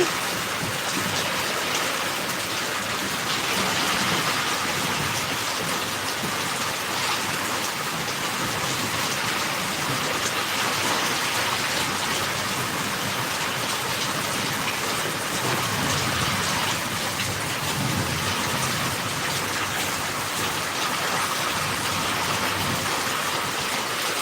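Heavy rain pours steadily in a village, a dense, unbroken hiss of drops striking surfaces that stays loud and even throughout, with no voices.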